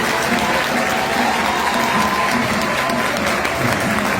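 A church congregation applauds loudly, its dense, continuous clapping filling the room evenly for several seconds with a faint murmur of crowd beneath.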